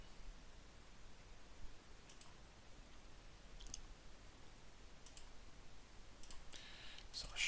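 Faint, sparse clicks from character shuffling in the sword-fighting video game Hellish Quart, a few isolated taps over a low hiss.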